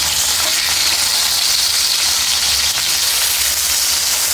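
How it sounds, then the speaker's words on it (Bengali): Pieces of hilsa fish rubbed with turmeric, salt and chili fry in hot oil, making a loud, close, continuous sizzle with no voices. "ভালো করে ভেজে নেব"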